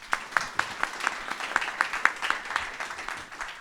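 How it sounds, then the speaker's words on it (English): An audience at a panel discussion during a Chicago business conference claps together, a brief round of applause with a few distinct claps standing out over the crowd. "Let's give him a round of applause."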